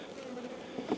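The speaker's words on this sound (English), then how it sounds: "4 frames of bees left in it." Honey bees buzz steadily in an opened deep hive box holding only four frames of bees, a dense close-up drone that swells briefly near the end.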